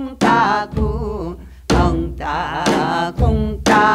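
Korean janggu drum beating the noraetgarak rhythm as accompaniment for a Gyeonggi folk song: sharp, close strikes at an uneven lilting pace under sustained, wavering sung tones.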